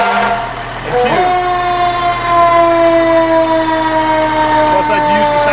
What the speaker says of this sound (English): I'm going to be testing my siren